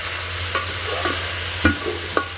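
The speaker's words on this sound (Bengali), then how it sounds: "তো সবজিটা আমি ভালো করে নাড়াচাড়া দিয়ে ভেজে নিব।" Vegetables for a Bengali village-style shukto stirred and fried in a pan, giving a steady low sizzle with a few sharp scraping knocks of the spatula, close up and with no talking.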